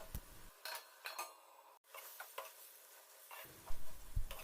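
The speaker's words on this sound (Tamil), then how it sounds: "இந்த மாதிரி இடையில ஓப்பன் பண்ணி கிண்டி விட்டுக்கோங்க." Broad bean (avarakkai) poriyal stirred in a pan, with soft scraping and ticking of a spoon against the pan and faint sizzling, in brief close bursts separated by near-silence.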